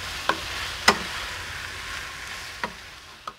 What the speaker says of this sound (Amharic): ጠበስ ጠበስ እናደርገው ነው።